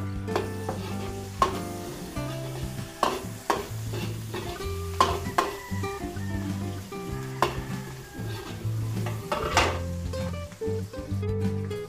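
Onion and garlic sizzle while being sautéed in a pan, with repeated sharp clinks and scrapes of a utensil stirring them over a soft hiss and a faint musical backdrop.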